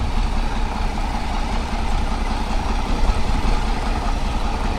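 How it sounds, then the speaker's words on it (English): A Caterpillar D2 diesel crawler engine runs at a steady idle, a continuous low rumble heard alone and fairly close. "Another Caterpillar diesel, a D2."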